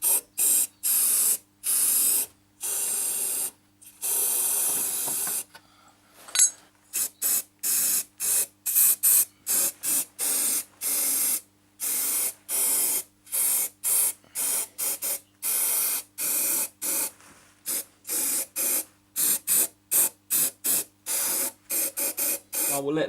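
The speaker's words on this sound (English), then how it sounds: "So I'm going to just get the nozzle in there and give it a good spray around" Aerosol can spraying coating onto the underside floors of a 1973 BMW 2002 during restoration before welding, in many short and longer hissing bursts with brief pauses, close and loud.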